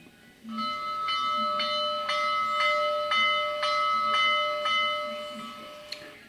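A bright, ringing model locomotive sound-system bell for a Big Boy strikes repeatedly in a steady rhythm, each clang sustaining with metallic overtones, fairly loud and close, then stops.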